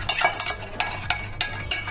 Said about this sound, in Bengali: এই যে ফোমটা, এই যে মিল্ক একসাথে মিক্স করে দিলাম।